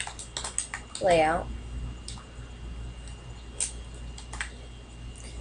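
Quick bursts of clicky keystrokes on a computer keyboard, close and crisp, broken by short pauses while someone speaks briefly over the typing.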